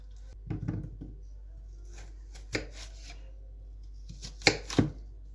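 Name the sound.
chopping onion into small pieces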